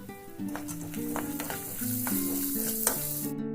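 Green chili, garlic, curry leaves and peanuts sautéing in a pan for bread upma, a steady close sizzle and crackle of frying with soft stirring, mixed with background music of sustained tones.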